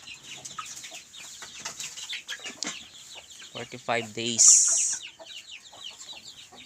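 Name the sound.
chickens and rooster on a farm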